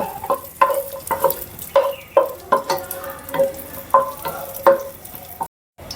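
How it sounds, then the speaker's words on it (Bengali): Cashew nuts fry in hot ghee in a pan, giving a close, steady sizzle broken by a dozen or so regular scraping strokes of stirring, each a short bright knock, before a brief drop to silence at the end. "কাজু বাদামগুলো একটু ঘি দিয়ে ভেজে নিচ্ছি"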